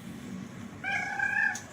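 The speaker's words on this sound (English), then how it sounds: "She's got a nice purr. Talker. She's a talker." A cat gives a clear, drawn-out meow near the microphone after a short quiet stretch of faint room noise, with no talking.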